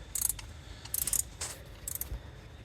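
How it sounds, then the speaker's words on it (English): A 10mm ratcheting wrench works bolts loose from underneath on a Buick Lucerne 3.8, with repeated bursts of bright ratchet clicking separated by short pauses over a low background rumble. "You'll probably want to use a deeper socket or a 10mm ratcheting wrench like this"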